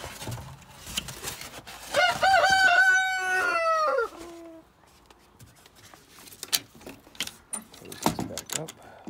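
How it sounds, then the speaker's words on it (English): A newly acquired rooster on a bird farm crows one loud, drawn-out cock-a-doodle-doo up close, followed by scattered clucks, rustling and light background noise. "That's a new rooster that we just got"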